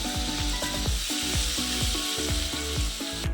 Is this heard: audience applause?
no